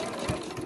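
A sewing machine stitches fabric bunting flags continuously, a close, steady mechanical whir with a fast needle rhythm throughout the brief moment, with no talk.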